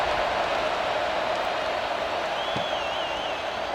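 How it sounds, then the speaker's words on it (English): A college football stadium crowd buzzes steadily after a touchdown in a Florida State versus Florida game, a dense, continuous roar of voices filling the whole clip with a brief whistle-like tone rising above it near the end. "this crowd is buzzing after that last score"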